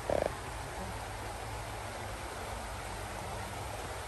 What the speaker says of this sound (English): Ang tubig na lumalagaslas.